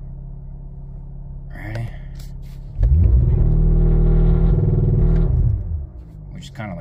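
A 2023 Cadillac CT4-V Blackwing revs hard in launch control at 2500 rpm, a loud steady rumbling drone held for about two seconds before it drops away, with a short spoken word just before.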